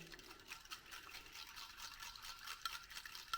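Eggs gently beaten with a utensil in a bowl to break up white and yolk, a soft, steady rapid clicking and swishing, fairly quiet and alone.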